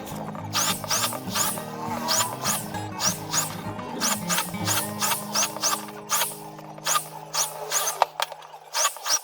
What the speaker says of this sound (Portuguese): Agora eu vou fazer os furos.